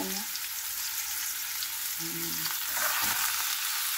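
Yellowfin tuna head sautéing in a pan, a steady bright sizzle of frying that swells slightly louder near the end, with no talking.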